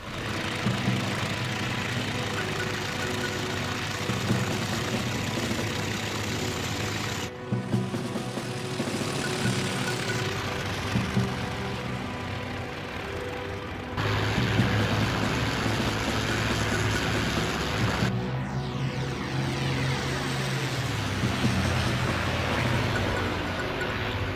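Steady propeller drone of an A6M2 Zero fighter's engine in the IL-2 1946 flight game, running continuously at a constant throttle with small shifts in tone and level, and no speech.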